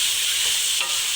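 Vegetables fry for chicken jalfrezi in a steady, fairly loud sizzle with a soft stir or two near the end of the short stretch, no voices.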